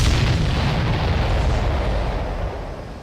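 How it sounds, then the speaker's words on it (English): Supply ship exploding in the Ace Combat 7 video game, a heavy booming blast that rumbles and slowly fades, loud and alone. "Did you see that explosion? Looks like that's one of them down."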